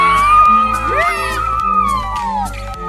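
Spectators at a village cricket match in Mahabaleshwar shout and call out together, a loud, continuous jumble of overlapping voices with bursts of whooping, close by and without pause.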